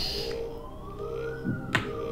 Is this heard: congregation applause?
no